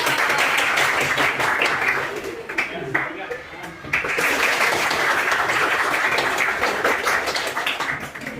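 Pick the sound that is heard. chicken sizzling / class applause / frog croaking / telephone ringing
class applause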